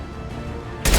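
A sniper rifle fires in the video game Mass Effect 2: one loud, sudden blast near the end, following a steady low hum of game ambience.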